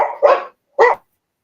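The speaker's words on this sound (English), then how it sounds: "dog heard something outside there" A dog barks twice, close and loud, the first bark following a short growl-like lead-in, then silence.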